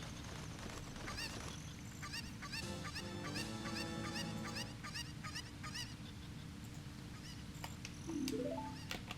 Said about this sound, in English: Chicken left us.